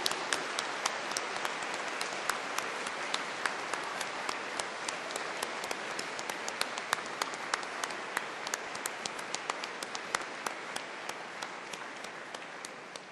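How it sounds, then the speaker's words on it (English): Dense, sustained applause fills a university graduation ceremony hall at Cardiff University, with many hands clapping steadily and crisp individual claps standing out, all without pause for the full thirteen seconds. "giving them a huge cheer and round of applause"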